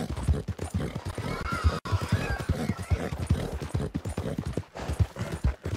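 A horse in Red Dead Online gallops and whinnies, with dense, steady clip-clop hoofbeats running close and loud throughout.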